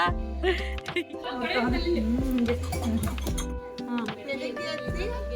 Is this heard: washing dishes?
yes